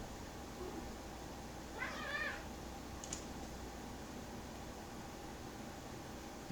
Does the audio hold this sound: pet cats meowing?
yes